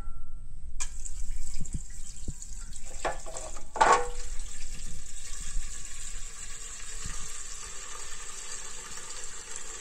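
Tap water runs into a metal cake pan left to soak, a steady hissing fill after a brief start, with a few clinks and splashes partway through, close by and fairly loud.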